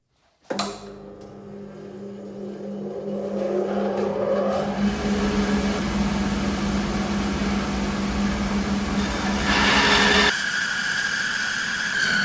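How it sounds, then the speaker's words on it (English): A bandsaw resaws a sapele offcut into thin veneers on a worn blade, the motor whirring up to speed, then a steady loud rasping cut with a high whine that shifts pitch near the end as the board clears. "So we're going to run our board through the bandsaw here."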